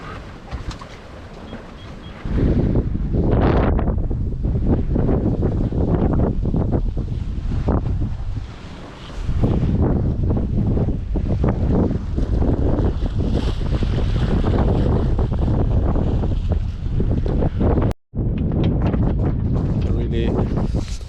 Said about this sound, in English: The wind seems to be picking up in this area here